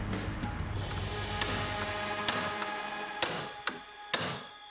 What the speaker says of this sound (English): I'm gonna hammer the new bearing on.